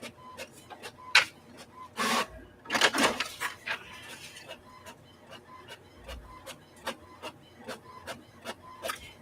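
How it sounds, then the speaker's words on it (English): A home printer feeds and prints on regular printer paper during a craft session: rhythmic mechanical ticks and clicks with louder whirring paper-feed rushes in between, close and fairly quiet. "I did just print this on regular printer paper"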